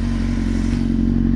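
A Honda Hornet 600 motorcycle engine idles evenly around 1200 rpm, a loud, close, steady low thrum with a faint mechanical clatter.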